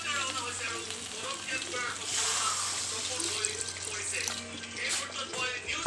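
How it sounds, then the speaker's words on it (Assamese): Water poured into a hot cooking pot of fish curry with boiled potato, a loud, continuous hissing rush and sizzle filling the whole stretch. "এতিয়া ইয়াত মই পানী দি দিম"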